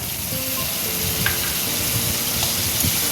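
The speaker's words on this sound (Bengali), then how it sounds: "আবার একটুখানি হালকা করে ভেজে নেব" Sating fish frying in oil with onion paste, tomato and salt, stirred in the pan: a steady, close, loud sizzle with soft scraping strokes running through it.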